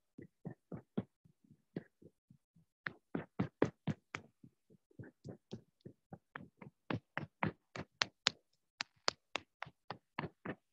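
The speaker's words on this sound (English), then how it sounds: "We use our 5 fingers to massage and to clap to the left shoulders from your left chest" Hands clap and pat against the body during a qi gong self-massage, working from the chest to the shoulder with five fingers; a long run of close, crisp slaps in a steady, fairly quick rhythm, alone with no talk.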